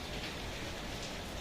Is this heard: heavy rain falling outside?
yes